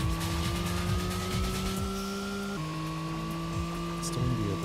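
A twin-turbo car in the PS1 racing game Racing Lagoon: a steady, loud engine whine that drops in pitch at one gear change and then keeps climbing, with faint tire noise underneath.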